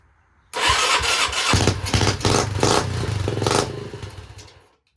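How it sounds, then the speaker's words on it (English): An 80s Yamaha Tri-Moto three-wheeler starts up and runs close by with a rough, clattering small-engine putter for several seconds before cutting out and fading. "then we'll fire it back up and see if we notice any sort of difference at all"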